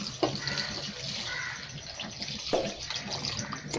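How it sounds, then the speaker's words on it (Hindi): Lukewarm water is poured into a pot of mutton korma, a continuous hissing splash with a few sharper clinks, heard alone at moderate level. "2 गिलास हम इसमें पानी ऐड करेंगे। पानी हम नीम गर्म ऐड करेंगे।"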